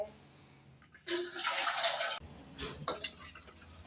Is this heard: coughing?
no